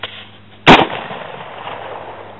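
A single sharp rifle shot from a Marlin 336Y lever-action rifle, loud and close, cracking out once after a short quiet lead-in and then fading into a brief outdoor echo.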